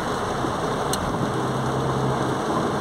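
Heavy rain falls in Lapão, Bahia, an unbroken close hiss of drops pelting surfaces, with a low engine hum running underneath and no one speaking.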